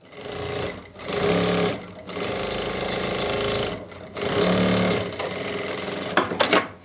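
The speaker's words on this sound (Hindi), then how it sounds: "अब इसके अंदर हम लगाएंगे फिटिंग की सिलाई" A sewing machine runs in steady bursts, stitching the fitting seams of a sleeveless kurti, with several loud continuous runs separated by brief pauses and a few sharp clicks near the end.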